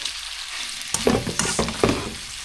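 Rice noodles with meat and vegetables being stir-fried in a pan, with a steady sizzle and several scraping, clattering stirring strokes close by; no voices.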